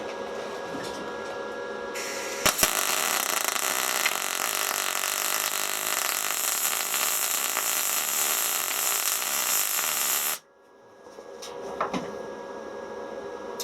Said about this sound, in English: hear the noise it's making, like a singing, shivering noise. That's the noise you want to hear.